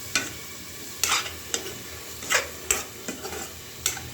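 Spices for a curry of foli fish are stirred and sautéed in a pan: a low sizzle broken by several sharp scraping strokes at irregular intervals, close and alone.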